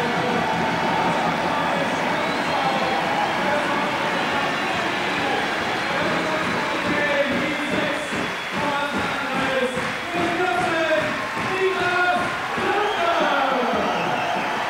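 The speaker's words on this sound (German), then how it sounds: "der Applaus, den Sie da im Hintergrund hören, der gilt dem Youngster" Applause from an arena crowd at a 1997/98 basketball game between MTV Giessen and Telekom Baskets Bonn, a steady dense roar of clapping and crowd noise running throughout, with a commentator talking over it.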